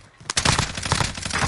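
Rapid bursts of automatic gunfire in a video game begin abruptly after a quiet moment and continue in a fast, loud, rattling stream.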